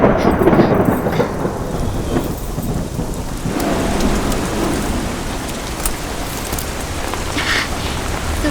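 Heavy rain pours down steadily in a thunderstorm, with low thunder rumbling beneath the dense, continuous hiss for the whole stretch, loud and close with no talking.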